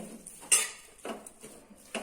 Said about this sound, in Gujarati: હવે આને સારી રીતના મિક્સ કરી અને આને આપણે